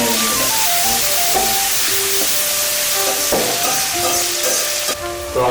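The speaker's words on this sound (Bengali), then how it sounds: "রসুন কুচি, আদা কুচি, ভালো করে নেড়ে নেড়ে।" Chopped garlic and ginger sizzle steadily in hot oil for an egg curry, stirred throughout, with a continuous hiss running beneath melodic background music.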